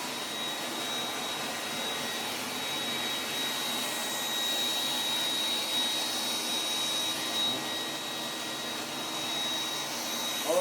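A Vorwerk vacuum cleaner runs steadily and close by, a continuous broadband whoosh with a thin high whine, holding level throughout with no talk.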